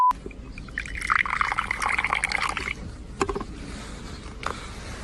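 Juice poured into a container, a steady liquid trickle and splash for a few seconds, followed by a couple of brief clinks and drips, fairly close and with no talking.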